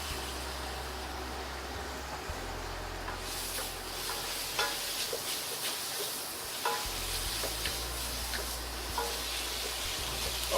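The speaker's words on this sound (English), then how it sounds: "then we stir fry the chopped onions" Chopped onions stir fry in melted butter over medium heat, a soft steady sizzle and hiss with light scraping stirs, fairly quiet and continuous beneath a low hum.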